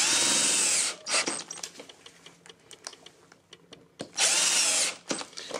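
A power drill drives screws into the hinges of a folding wardrobe door, with two loud sustained whirring bursts at the start and end separated by quieter clicks and handling taps.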